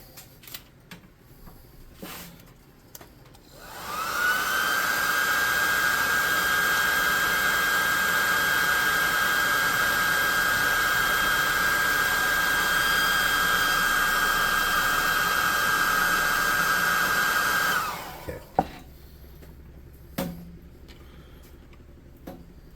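A hair dryer blows on a painted miniature for a tabletop role-playing game, switching on with a loud steady whine and a rushing airflow that holds for about fourteen seconds before cutting off, with light handling noises before and after.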